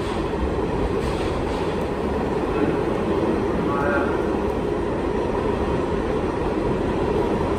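Steady rumble of a subway train in motion heading downtown fills the whole stretch, loud and continuous, with faint voices murmuring underneath.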